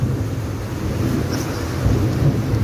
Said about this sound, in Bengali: এখন হচ্ছে বৃষ্টি হচ্ছে